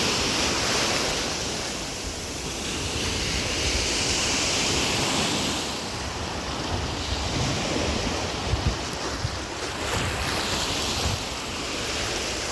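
Sea waves wash onto Kumköy beach in the Side region of Turkey in November, a continuous broad surf roar with gusts of wind buffeting the microphone, no voices.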